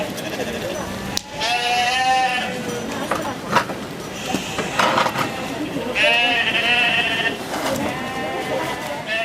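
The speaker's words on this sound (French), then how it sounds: "Une barrière entrouverte, et voilà que nos agnelles en profitent pour s'offrir une petite escapade." Ewe lambs bleating repeatedly after slipping out through a half-open gate at a lamb fair in Ceillac, several overlapping calls near and far, with a voice talking over them.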